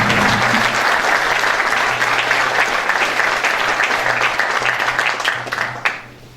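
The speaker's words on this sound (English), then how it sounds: "you to express your applause" A large audience at the 2019 City of Edmonds State of the City event breaks into sustained applause as a speaker is welcomed. It is dense and steady, then thins out and fades over the last second.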